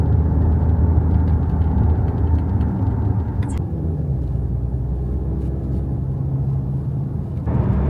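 Genesis GV80 2.5 engine laboring under acceleration, a steady low droning rumble with a whirring mid-range tone heard from inside the cabin, continuous and fairly loud throughout.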